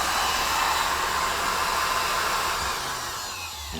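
A honey extractor spins three deep frames, giving a loud, steady whooshing whir that eases slightly as it winds down at the end.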